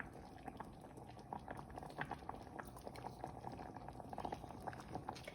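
Pasta simmers in a pot of vegan minestrone soup, a quiet, bubbling boil of irregular soft pops and gurgles with no one talking.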